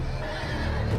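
Horses whinny in the Game of Thrones video game, a loud neigh over low rumbling hooves and ambient game sound, close and continuous.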